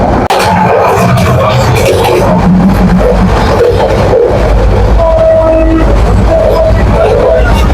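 A steady, heavy rumble fills a moving passenger carriage of the Cox's Bazar Express train, with rattles and clatters on top and faint talk in the background.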